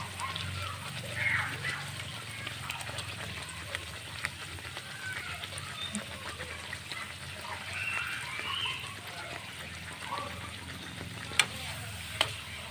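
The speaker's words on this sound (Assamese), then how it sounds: "এইখিনি আপোনালোকে অলপ ৰঙচুৱা হোৱালৈকে ভাজিব।" Dal puri bubbles and sizzles in hot oil in a village kitchen, a steady soft crackle with faint splashes and a few sharper pops near the end.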